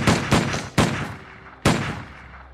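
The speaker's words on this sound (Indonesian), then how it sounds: "dia langsung menembaknya" Gunshots ring out in a film: four sharp, loud reports, the first two close together, then one more and a last shot after a pause. Each carries a short echoing tail.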